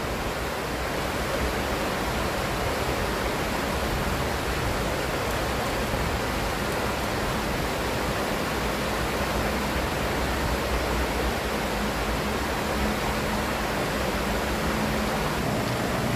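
A swift, wild river in full flow makes a loud, steady rushing roar that fills the whole clip, with no talking.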